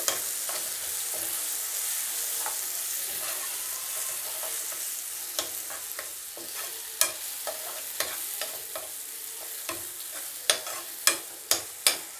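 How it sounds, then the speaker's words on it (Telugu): Steady frying sizzle as raw mango chutney is stirred into hot oil in a pan, with a series of sharp scraping clicks growing more frequent toward the end. "ఇప్పుడు ఈ పచ్చడి అంతా బాగా మిక్స్ చేసుకోవాలి ఆయిల్లో కలిసేలాగా"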